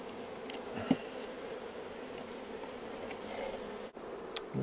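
Honey bees buzz at an open hive during a two-frame split with queen cells, giving a steady, fairly close hum with a few louder passes near the listener.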